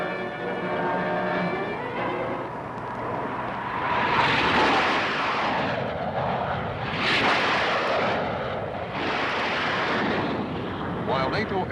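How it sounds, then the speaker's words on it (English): Military aircraft roaring overhead, several loud jet passes rising and fading in succession over a constant wind-like rush, with someone narrating. "NATO aircraft are on their way to attack deep in the enemy homeland"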